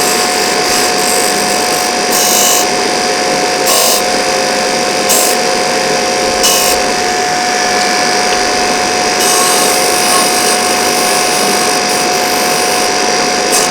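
A disc sander works a small wooden Scrabble-style tile for a pyrography sign, its loud steady motor whine droning throughout, with periodic harsher rasping surges as the wood is pressed against the spinning disc.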